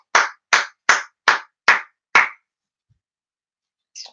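A single person claps six times in a quick, even rhythm, sharp and close, then stops, followed by near silence and a brief faint sound at the end.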